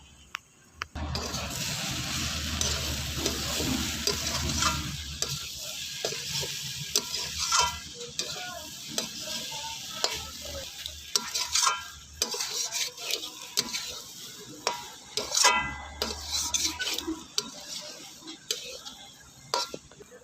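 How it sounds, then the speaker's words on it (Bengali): Cauliflower paratha filling stirred with ghee in a pan, a continuous scraping and clattering of a spatula against metal over a steady sizzle, close and busy for the whole stretch. "দিয়ে এখন এটাকে ভালো করে নেড়ে মিশিয়ে নেব।"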